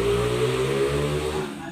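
A motorcycle engine runs steadily close by, a continuous mid-pitched drone that fades slightly toward the end, with no talking.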